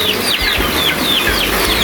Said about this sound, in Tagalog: Meron tayong dalawang tandang dito.